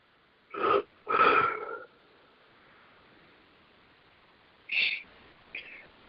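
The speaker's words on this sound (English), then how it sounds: "I'm yawning so largely with all of this." A person on a group call yawns audibly in a few breathy, drawn-out bursts, close to the mic, with near silence between them.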